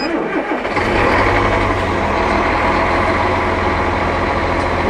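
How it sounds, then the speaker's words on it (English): A crane's engine turns over and fires up from the cab ignition switch, then settles into a loud, steady close-up idle rumble with a broad mechanical roar. "So we'll go to the ignition switch and we'll start the crane."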